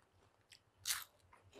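Crispy sesame-coated fried potatoes are bitten close up, giving one sharp, loud crunch followed by faint, softer chewing crackles.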